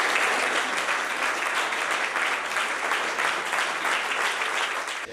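Sustained standing ovation for Carlo Nordio's speech at the Unione Triveneta degli Avvocati in Venice, a dense, steady wash of many hands clapping at full strength, easing slightly at the very end.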